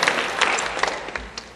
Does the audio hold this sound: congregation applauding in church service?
yes